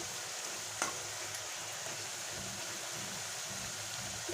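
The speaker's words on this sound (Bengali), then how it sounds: "আলুটাকে আমি ভালো করে লাল করে ভেজে নিচ্ছি" Diced potatoes frying in hot oil in a pan, a steady, dense sizzle that holds evenly throughout, close and fairly loud, with one brief sharp click partway through.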